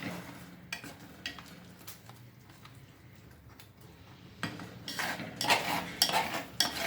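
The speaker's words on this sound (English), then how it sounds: "Lastly, I'm just going to add in the coconut before I close the pan. And again, give it a good stir." A spoon scrapes and knocks as millet upma with grated coconut is stirred in a mud pot, quiet irregular clinks at first, then louder, busier scraping toward the end.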